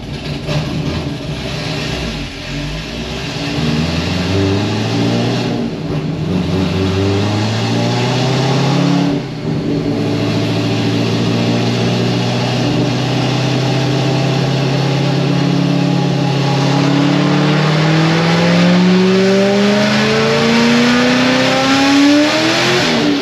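A boosted car engine with a smaller supercharger belt revs hard in long rising sweeps while the tires spin, loud and close for the whole stretch, with brief dips between pulls and no talking.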